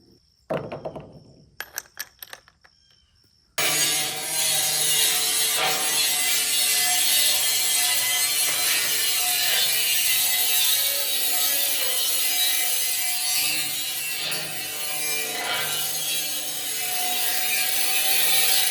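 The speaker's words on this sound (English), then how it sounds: "Grinding wheel is the winner." A grinding wheel cuts metal for a shipping container shop roof truss, a harsh continuous grinding whine that runs loud and steady after a few short clicks and taps.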